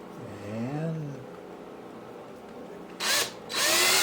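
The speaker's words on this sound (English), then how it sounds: "I'll take my 1/8 inch drill bit" A power drill with a 1/8 inch bit bores a hole while a pinball play-field from a 1973 Bally Monte Carlo is being reassembled, giving two close, loud whirring bursts after someone speaks.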